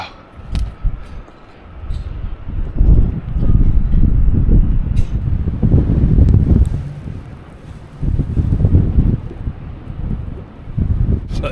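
Strong wind buffeting the microphone on an exposed seafront, loud rumbling gusts that swell and ease over several seconds, dominating the scene.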